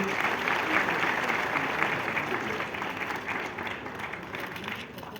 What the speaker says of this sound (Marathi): जोरदार टाळ्या मंडळी